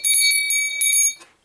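Montessori sensorial matching bells struck in a series of clear, ringing metallic tones, about eight quick strikes close up with sustained overtones, fading out at the end.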